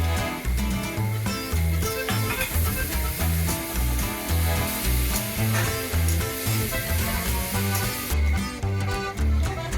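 Garlic paste and ginger paste hit hot oil in a pan for a Bengali fish curry, giving a loud, dense, continuous sizzle with rhythmic clatter throughout and a slight drop in hiss near the end.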